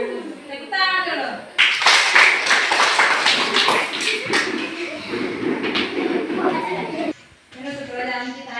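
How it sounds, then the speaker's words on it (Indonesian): A class of students claps together during a school lesson, giving a loud, dense burst of applause that lasts several seconds. Voices are heard before and after it. "Tepuk tangan dulu."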